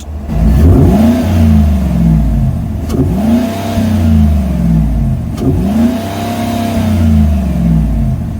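A Chevrolet Silverado truck engine with a cold air intake and its plugs removed revs three times, each rise sweeping up and settling back to a steady idle, loud and near with no speech.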